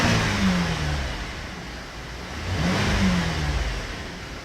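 A car engine with direct injection, just after a cleaning treatment, gives two quick revving blips from idle that rise and fall, heard up close with no talking.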